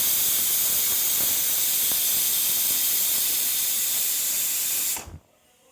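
A pressure cooker cooking Kerala-style beef curry releases a loud, steady steam hiss that runs unbroken for about five seconds, then cuts off abruptly into near silence.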